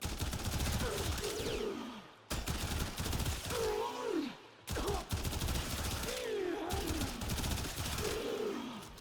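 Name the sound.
Soma rifle gunfire at enemies in Warframe video game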